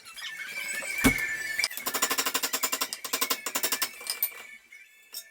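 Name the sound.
hammer striking a wrench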